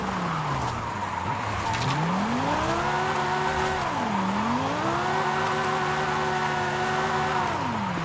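A Mercedes-Benz engine drifts in Forza Horizon 5. The loud, continuous whine rises and dips as the revs swing through the slide, with no voices over it.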